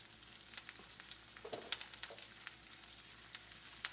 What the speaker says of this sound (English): Alright, it's beginning to fry.